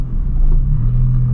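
A lowered Volkswagen Gol G6 with a big rear diffuser gives a loud, close, deep exhaust rumble that holds steady and swells slightly partway through. No one speaks.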